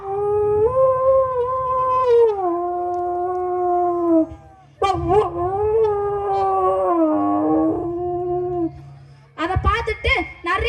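A human voice imitates a fox's howl in long, wavering, drawn-out cries, repeated three times with brief pauses between.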